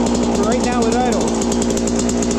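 A 1995 Suzuki RM125 two-stroke dirt bike, freshly rebuilt, idles close by with a steady, loud, rapidly pulsing buzz.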